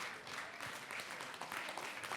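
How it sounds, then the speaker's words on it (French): Audience applause for the speakers at an ocean-protection panel discussion: a steady, faint patter of clapping heard from a distance, with no voices. "Applaudissements"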